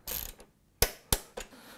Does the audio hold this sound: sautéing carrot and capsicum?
no